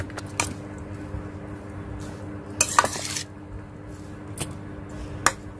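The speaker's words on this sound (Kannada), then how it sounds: "ನೋಡಿ ಎಲ್ಲ ಒಗ್ಗರಣೆ ಕೂಡ ಹಾಕಿ ಕಲಸ್ತಾ ಇದ್ದೀನಿ." A metal spoon scrapes and clinks against a vessel while lemon rice is mixed with its tempering, steady stirring broken by several sharp clanks, close and clear, with no talk.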